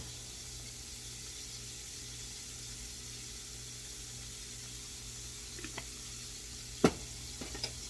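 Pork backstrap fries in vegetable oil with a soft, steady sizzle under a low background hum, broken near the end by a few sharp clicks and one louder clatter, like a fork touching the pan.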